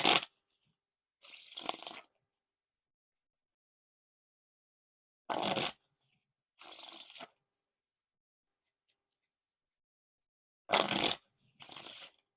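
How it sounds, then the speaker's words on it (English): Blue Bee Casino playing cards being riffle and bridge shuffled in three separate bursts, each a sharp crisp riffle followed by a softer bridge cascade, close and clear with silence between. "Now time for the riffle shuffle or bridge shuffle."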